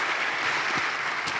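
Big, steady applause fills a hall at an Indonesian entrepreneurship seminar, a continuous dense wash of clapping from a large audience with no clear gaps.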